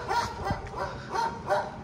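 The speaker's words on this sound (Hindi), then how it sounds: "क्यों भौंक रहा है भाई," A roughly six-year-old street dog outside a Royal Enfield showroom yips and barks in a few short bursts, moderately close with no talk over it.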